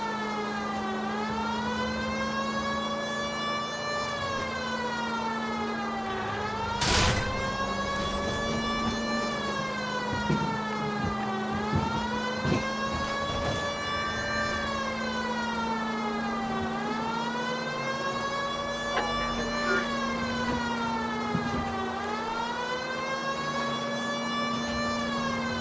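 Police siren in the video game L.A. Noire wails in long, regular rising-and-falling cycles, loud and steady, over a constant low engine hum with occasional brief knocks and bumps.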